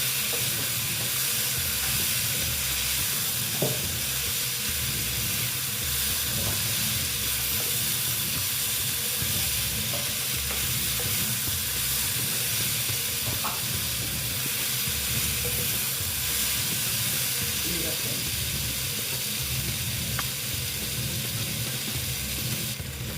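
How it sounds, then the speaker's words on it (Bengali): Chayote squash and potato fry with salt in a pan, a steady dense sizzle and hiss running throughout with occasional faint clinks of stirring, no voices. "আন্দাজ মতো নুন দিয়ে দিলাম দিয়ে ভালো মতো এটা সঙ্গে কষিয়ে নিচ্ছি"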